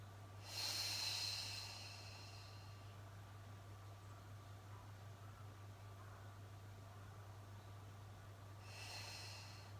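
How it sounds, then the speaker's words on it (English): Deep nasal breaths during a mat exercise stretch, one loud inhale near the start and another at the end, close over a faint steady hum. "And breathe."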